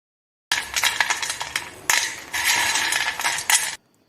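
Crisp fried nimki snacks rattle and crunch as they are tossed and handled close by, in dense bursts for about three seconds, then silence.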